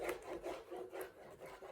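A spoon stirs thickening wheat halwa batter in a pan, making faint, soft, rhythmic scraping and rubbing strokes with no talking.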